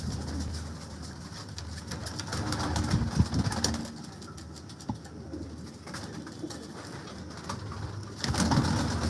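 Salara Tausi pigeons cooing in a loft, low murmuring coos rising and falling over steady background noise, with a louder swell near the end.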